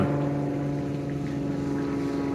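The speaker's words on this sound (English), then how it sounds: "small planes, the nemesis of outside recording, small planes." A steady, droning engine hum with a buzzy tone holds at constant volume throughout as a small propeller plane passes overhead outdoors.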